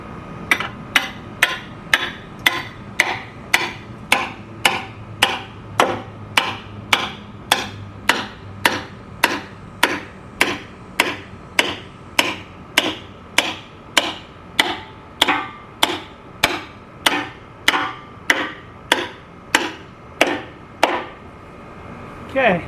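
Hammer blows drive a nail into a wooden chicken nest box, about forty sharp, evenly spaced strikes at a steady rhythm. They are close and loud, with a faint background hum between hits.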